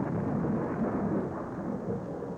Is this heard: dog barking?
no